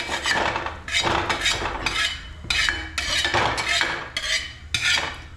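A ladle scrapes and knocks against a pan while beef curry is stirred in a home kitchen, giving repeated rhythmic metallic clatters close up, with no talk.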